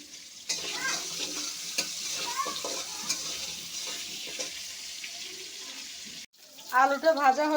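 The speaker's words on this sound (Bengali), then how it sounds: "আলুগুলো ভেজে নেব।" Potato pieces fry in hot oil, a steady sizzle with occasional stirring clinks and scrapes, ending with a short burst of louder sputtering.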